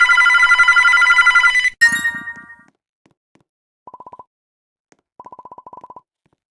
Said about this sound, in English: the phone is ringing. We should pick up.